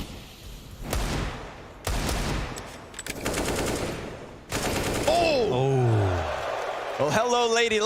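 Rapid bursts of automatic gunfire from two guns in a CS:GO match, several sharp volleys in quick succession, with excited commentators talking over the later shots.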